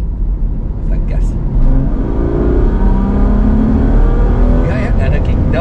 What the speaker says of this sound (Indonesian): Ini kita gigi 4 di auto, kita gas.